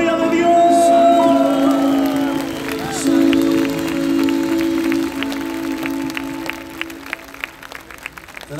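A church worship audience in Quito applauds, the clapping mixed with crowd noise, music tones and murmuring voices, steady throughout and fading slightly toward the end.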